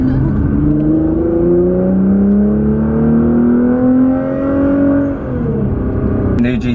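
A new Nissan GT-R accelerates hard from inside the cabin, a loud engine note whose pitch climbs steadily through a long pull before easing off, heard up close and continuous.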